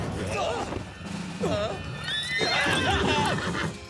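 Horses neigh and whinny several times amid shouting French voices and ambush commotion in a Zorro cartoon, with faint hoofbeats underneath.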